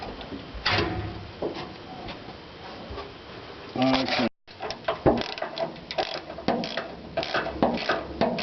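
A ratchet clicks in short bursts while undoing the top bracket bolts of an air bag on a Chevy C20, close and metallic, with someone talking over the work.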